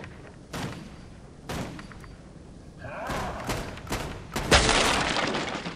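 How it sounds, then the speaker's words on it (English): Gunfire hitting the top of a gate in Guild Wars 2, a few spaced shots and thuds followed by a denser burst of crashing, shattering impacts that grows louder toward the end. "We will use the old-fashioned method of shoot the very top of the gate"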